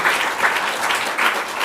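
Audience applause fills a book launch event hall, a dense steady patter of many hands clapping continuously throughout.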